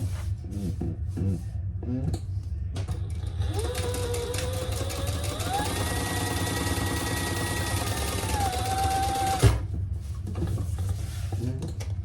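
A home sewing machine stitches a strap onto a retro-style sling bag, its steady motor hum running for several seconds with a rising whine before stopping abruptly, with quieter handling sounds on either side.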